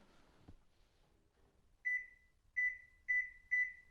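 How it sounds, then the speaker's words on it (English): A few faint clunks, then four short, loud electronic beeps from a faulty GE microwave oven that turns on when its door opens, spaced irregularly and heard up close with no talking. "I've got the microwave plugged in."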